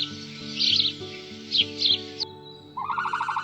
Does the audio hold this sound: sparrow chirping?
yes